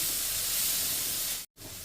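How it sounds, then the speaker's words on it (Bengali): Mushrooms sizzle steadily in a frying pan with salt, a dense, even hiss that cuts out for a moment near the end before resuming. "মাশরুমগুলোকে একটু আমি নেড়ে চেড়ে ভেজে নেব"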